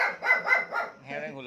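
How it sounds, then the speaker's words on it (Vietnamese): A wild boar in a pen in Long An, Vietnam, gives a few close, dog-like barking calls in a quick rhythmic series, followed by a softer, tonal sound. "thằng heo sủa, bà con nghe rõ không?"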